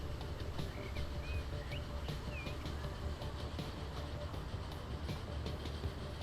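Trains running in the Transport Fever 2 video game, a regional service stopping at every station, give a steady rolling rumble with faint clicking and a few bird-like chirps layered on top, continuous throughout with no talk.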